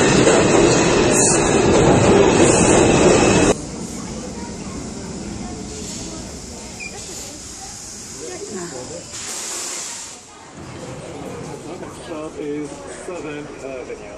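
A subway train rushes and hisses loudly at first, then its rumble fades lower with clattering wheels while voices talk over it.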